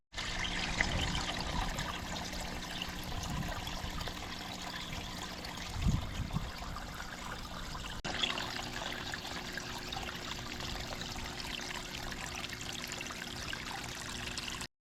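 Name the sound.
water trickling down a garden waterfall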